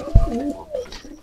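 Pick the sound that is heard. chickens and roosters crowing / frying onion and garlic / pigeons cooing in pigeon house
pigeons cooing in pigeon house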